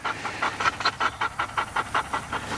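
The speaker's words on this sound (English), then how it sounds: "He's a little bit of a high drive dog, to say the least" A high-drive gun dog pants hard and fast at close range, a steady run of quick rhythmic breaths with no talking.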